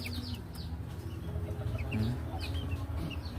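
Male chicks cluck softly and intermittently against a quiet background, with a few short calls standing out, no talking.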